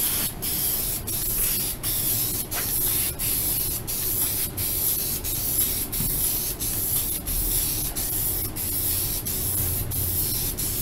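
A spray gun lays the final coat of paint on a Toyota Camry bumper. It gives a steady, close hiss with faint regular ticks throughout.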